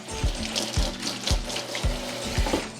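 Tap water runs steadily over a red vegetable being rinsed in a kitchen sink, with a continuous close splashing hiss and regular soft thumps roughly every half second as the vegetable is turned under the stream.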